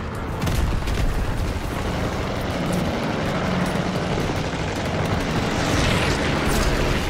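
Airstrike explosions boom in a WW2 video game set in the Battle of the Bulge, a dense, continuous roar of blasts and rumble that stays loud for the whole stretch with no pause.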